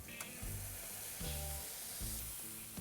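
Beef burger patties sizzle loudly on a hot griddle as they are smashed, a steady frying hiss with a few heavier pressing surges, no talking.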